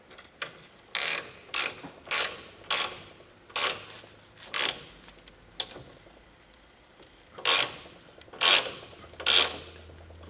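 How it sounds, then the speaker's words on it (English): A hand ratchet tightens the ball joint nut on a Polaris Ranger 6x6 front A-arm, giving loud, evenly spaced clicking strokes in bursts with short pauses between them, alone without talk. "tighten that nut on the ball joint, and it's going to pull that ball joint out"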